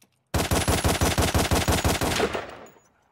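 Cartoon gunfire from a handgun bursts out in a rapid run of about a dozen evenly spaced shots, loud and close, then trails off into a short fading echo.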